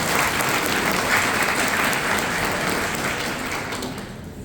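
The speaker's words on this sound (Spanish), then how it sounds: "Un aplauso por favor para el doctor David." A hall audience at a science festival in Asunción, Paraguay, breaks into dense, sustained applause for an honoured doctor. The clapping stays steady and full, then thins slightly at the end.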